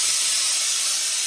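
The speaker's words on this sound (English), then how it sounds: "now I'm going to introduce some steam and then put it back on the block and form it again in the open crown" Steady hiss of steam jetting onto a black felt fedora being restored and reshaped on a hat block, constant and close with no talk.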